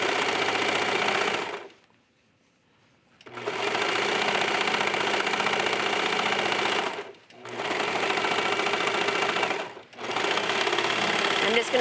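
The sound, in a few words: serger sewing fabric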